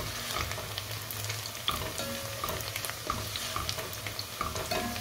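Onions frying in a pot for chana pulao, a steady close sizzle with occasional scrapes and clinks of stirring, moderately loud and continuous, no voices.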